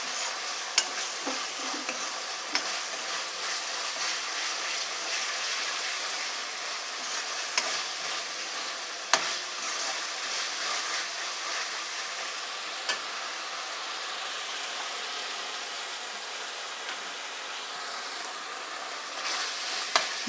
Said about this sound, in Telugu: మసాలాని బాగా ఫ్రై చేసుకుందాం.